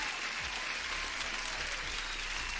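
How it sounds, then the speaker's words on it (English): Applause during a live futures-trading stream, a brief, even, continuous burst of crowd clapping lasting under three seconds with no distinct individual claps. "Everybody deserves another applause."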